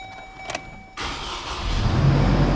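A used Chevrolet Colorado pickup with low mileage cranks and fires up after a faint electronic chime, settling into a steady close idle that swells slightly louder.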